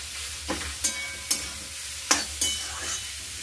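A ground spice paste is sautéed in a pan with cumin and curry leaves, and a spatula scrapes through it in sharp strokes over a low continuous sizzle, close by with no speech.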